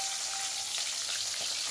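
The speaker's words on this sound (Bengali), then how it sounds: "মাছগুলি আমি লাল লাল করে কড়কড়ে করে ভেজে নেব।" Katla fish pieces frying crisp in hot oil, a dense continuous sizzle and crackle heard up close without any voices.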